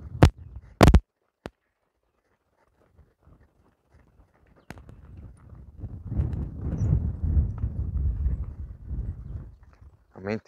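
A horse being trained for pleasure riding clip-clops as it is ridden in a circle, with sharp hoof knocks early and rhythmic hoofbeats later under a rider's continuous talking.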